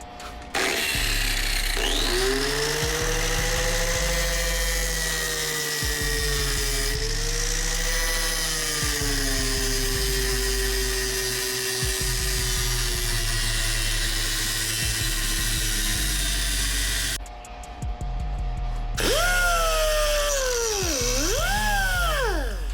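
Power tool cutting through a wheel stud on a 2025 Dodge Durango R/T, a loud sustained whining grind with pitch sagging under load, a brief pause, then rising and dipping again as the cut ends.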